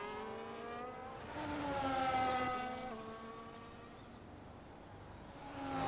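Racing cars in a racing video game drive out onto the track, their engines whining in rising and falling tones at moderate distance, swelling as they pass and then fading.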